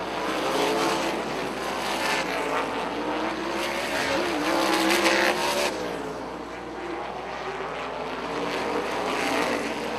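Sprint race cars with wings roar around the oval at Rockford Speedway, a dense, continuous engine howl with cars passing and fading through the turns, loud and steady throughout.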